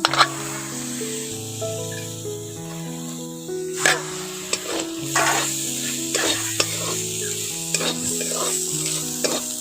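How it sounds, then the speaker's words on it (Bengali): Soaked chickpeas being stirred into potatoes in a frying pan for pumpkin chakka: a steady oily sizzle with repeated scraping, clattering spatula strokes, and soft background music underneath. "এখন ছোলাটা এই আলুর মধ্যে দিয়ে একটু ভালো করে নাড়াচাড়া করে মিশিয়ে নেব"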